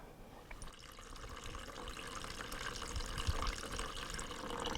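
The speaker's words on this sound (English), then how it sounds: "So now we're going to pour off the liquid." Buttermilk poured off freshly churned cultured butter, a soft, steady liquid pour and trickle that builds slightly and continues without pause, faint and close with no talking.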